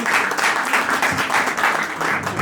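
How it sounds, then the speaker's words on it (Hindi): Audience applause at a live stage show, a steady wash of clapping hands that holds loud and even throughout with no pauses. "तालियां बजाते हुए तो मजा आता है।"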